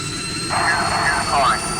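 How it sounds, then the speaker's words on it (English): Fighter jet engines run at full power on the takeoff roll in Strike Fighters 2, a steady roar with rising whines and a swelling rush that peaks twice, under faint background talk. "Engines to maximum. We are on the roll."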